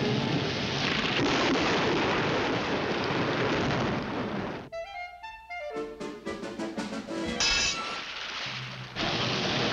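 A cartoon sound effect of an artificial thunderstorm: a dense roar of rain and rumbling thunder fills the first half, then breaks off into sparse stabs and other effects before the storm noise briefly returns.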